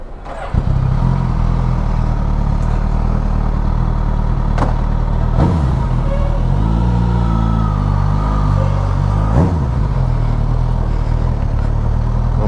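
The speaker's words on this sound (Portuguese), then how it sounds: "Bora acelerar o veículo." A motorcycle engine idles low and steady, then revs up in a few short bursts that rise and fall, close by, with occasional clatter and no talk.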